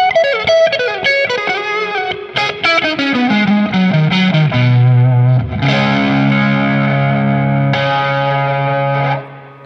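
An electric guitar through a distortion pedal plays a descending run of saturated notes that settles into long, sustained, fuzzy chords, loud and continuous, with no talk.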